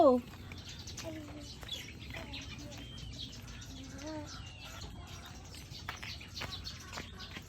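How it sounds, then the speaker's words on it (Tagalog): Young chicks chirping while waiting for food, a scatter of faint, thin peeps over low background noise and quiet talk. "Mga sisiw pa lang yun eh."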